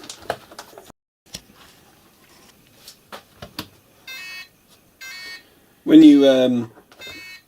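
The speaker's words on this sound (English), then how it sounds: "excuse the beeping" Short electronic beeps from a FlySky i6 radio transmitter repeat in a broken pattern, a few brief tones then a longer one, with a person speaking briefly between them.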